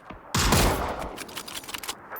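A sudden burst of rapid gunfire breaks out in the video game PUBG, followed by a few scattered shots and echoing cracks that trail off.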